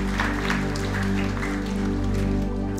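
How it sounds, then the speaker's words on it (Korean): An indoor church congregation claps steadily together over a low, sustained hum of music or amplification, with no one speaking. "우리 뜨겁게 박수로 축복하겠습니다."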